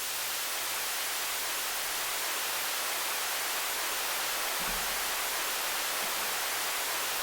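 Synthesized white noise in a trance track, a steady, bright, hissing wash held at an even level throughout with a faint low hum beneath.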